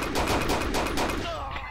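Rapid bursts of gunfire from a Walther-style pistol in the World War II shooter Forgotten Hope 2, a quick string of sharp shots about a tenth of a second apart, close and loud, fading into a short echo tail.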